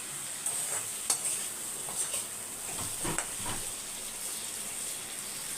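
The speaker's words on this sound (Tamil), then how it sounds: "சிம்மில் வச்சு அப்படியே ரோஸ்ட் பண்ணி எடுத்திங்கன்னா வாழைக்காய் வறுவல் சூப்பராக ரெடி ஆகிடும்" Raw banana slices roasting in a pan on low heat, a steady close sizzle with occasional stirring scrapes and soft pops, no talking.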